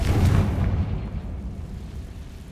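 A Confringo blasting spell in Hogwarts Legacy erupts in one deep, booming explosion that rumbles and fades over a couple of seconds, moderately loud with no voices.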